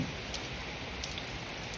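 Rain falls steadily on straw spread over a vegetable garden, giving a constant, soft, close patter of many drops with no break, alone and at an even level.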